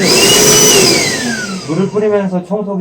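A Milwaukee wet vacuum cleaner runs with a steady, loud, high whine while water mixed with dish soap is sprayed, then a voice talks over the motor hum as it continues near the microphone.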